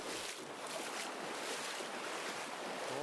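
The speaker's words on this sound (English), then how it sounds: "You can hear the river Kia." Flowing water of the Kiya river in the wild Russian taiga, a steady broadband rush that fills the whole clip, loud and close, with wind buffeting mixed in and no speech.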